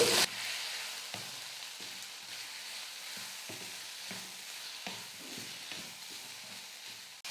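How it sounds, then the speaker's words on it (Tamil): Grated coconut and onions sauté gently in a pan, soft sizzling with periodic scraping taps of a spoon stirring, a steady fry under regular stirring strokes. "தேங்காய் துருவலை சேர்த்துட்டு 1 நிமிஷம் நம்ம நல்லா வதக்கினா போதும்."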